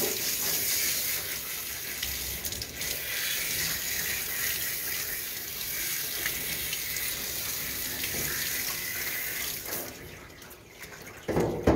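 Water runs steadily from a tap, rinsing soap out of a dog's fur during grooming, a continuous close splashing flow that eases off near the end.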